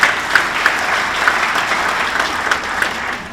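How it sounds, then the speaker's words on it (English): An audience at a St. Joseph Area Sports Hall of Fame induction ceremony claps steadily, a dense, even wash of applause at moderate-to-loud level with individual sharper claps poking through, no talking. "Give the good folks at Gray a big round of applause."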